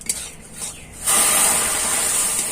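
Milk is poured into semolina and stirred into a soft dough for jalebi: a short quiet lead-in, then a steady close hiss and scrape of liquid and grains being mixed.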